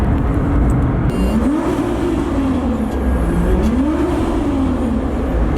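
Engine of a Nissan GTR revving toward the redline for a launch: a loud, continuous close-up drone that rises and falls in pitch in smooth waves, heard from inside the car.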